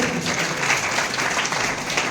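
Audience at a Thakor Sena student award ceremony in Lathi applauding steadily, a dense even wash of clapping held for about two seconds with no voices over it.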